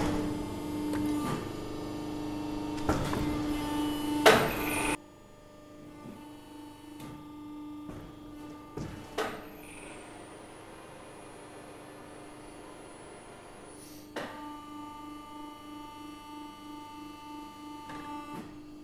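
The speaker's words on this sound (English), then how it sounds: "we're going to clamp slightly across the bend and do another bend" Mandrel tube bender clamping and bending a tube in a workshop, a loud machine run that stops abruptly, then quieter mechanical clunks, a high electric whine and a renewed steady hum.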